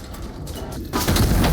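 The left cannon fires an armor-piercing shell in Iron Nest, a sudden loud blast that jumps up near the end of a short stretch of lower background rumble.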